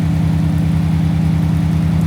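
Daimler Majestic Major limousine with a Hemi V8, engine running with a steady, even low exhaust beat, loud and close with no talk over it.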